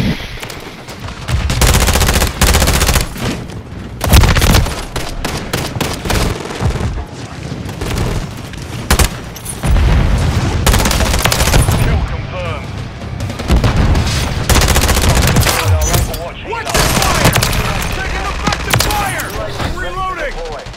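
Gunfire in Modern Warfare 3: loud, sustained bursts of automatic weapons fire mixed with heavy booms, near and dense throughout, with shouted voices underneath.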